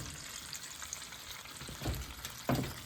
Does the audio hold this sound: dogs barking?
no